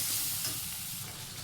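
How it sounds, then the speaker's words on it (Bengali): Spice masala fries in a pan with a little water for a prawn and green banana kofta dish, a brief soft hiss and sizzle, fairly faint and steady. "একটু একটু জল দিয়ে দিয়ে মশলাটা ভালোভাবে ভেজে নেব"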